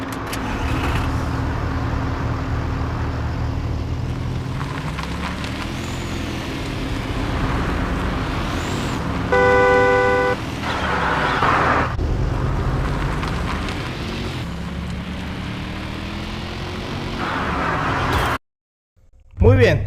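Porsche SUV engine in the Car Parking Multiplayer video game, a steady close drone with a few rising revs and a brief beeping pattern midway, ending in a short cutout.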